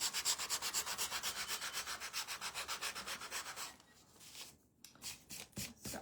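Quick, even rubbing strokes of sandpaper repeat in a steady rhythm, then slow into a few irregular scrapes with short pauses between them.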